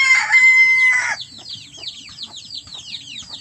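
A rooster crows loudly for about a second, then hens cluck and chirp busily in a steady chorus close by.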